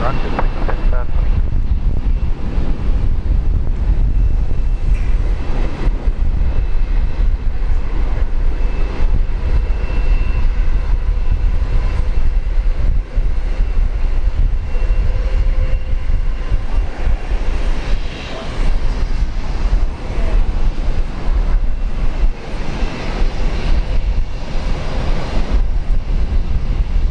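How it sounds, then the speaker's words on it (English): An airliner taking off from runway 19 right at Brisbane Airport produces a sustained, heavy low engine roar with wind buffeting over the microphone, steady and loud throughout, with radio speech faintly underneath. "runway 19 right, cleared for takeoff"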